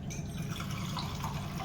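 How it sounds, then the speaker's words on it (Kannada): Water poured from a cup into rice for dal khichdi, a steady close trickle and splash running without a break for the whole moment, with no talking. "ಈಗ ಅಕ್ಕಿಗೆ ನಾನು 1 ಕಪ್ಪಿಗೆ 2 ಕಪ್ಪಷ್ಟು ನೀರು ಹಾಕ್ತೀನಿ."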